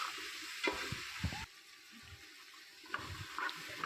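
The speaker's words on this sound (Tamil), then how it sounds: "காயெல்லாம் சேர்த்து நல்லா வதக்கி விட்டுக்கலாம்" Potato and drumstick pieces sautéed in a pan for sambar give a faint, close sizzle with scattered stirring scrapes and clatters, loudest in short bursts at the start and end.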